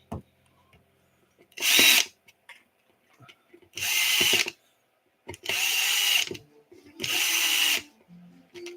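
A cordless power driver runs bolts into RC car parts in four separate whirring bursts, each about a second long, with quiet pauses and faint handling noises between them.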